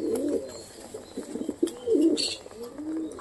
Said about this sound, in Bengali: অপরাজিতা খুশির জন্য এখন ডাকাডাকি করছে